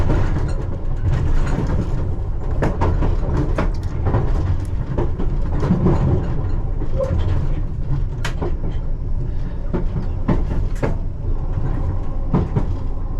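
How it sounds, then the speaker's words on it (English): A London Underground train rumbles steadily along the rails into sidings at night, a continuous low roar with scattered clicks and clanks, close by and loud throughout. "So the train just going into the sidings there."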